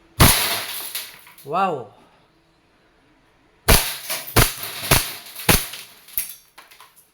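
Sharp, loud cracks from a KWC 1911 CO2 airgun firing steel BBs: one shot, then after a pause a rapid string of about six close shots, with a brief exclamation from a voice in between.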